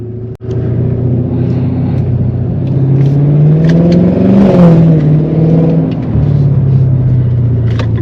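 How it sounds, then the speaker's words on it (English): A car engine revs hard while driving at night, a loud, close rumble rising to a strained peak mid-way and then settling back to a steady drone, with no talk over it. "Bro, this motor's gonna blow if I keep driving like that"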